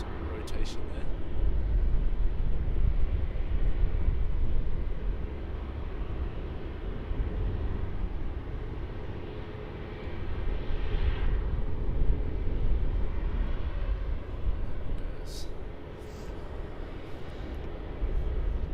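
An airliner at Melbourne Airport rolls and climbs away on departure, a broad continuous jet roar heard from a distance, rising and easing slightly across the span with faint voices nearby.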